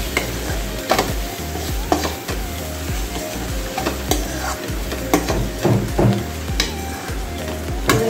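Spatula stirring mixed vegetables such as cabbage and capsicum with onion-garlic chutney in a hot pan, a steady close scraping and sizzling with repeated clacks against the metal and no talking.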